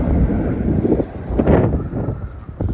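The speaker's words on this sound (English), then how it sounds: "Wind's picking up a bit, do apologise." Gusty wind blows across the microphone outdoors in a vegetable garden near an apple tree and onion beds, a loud rumbling buffeting that swells and dips over a few seconds.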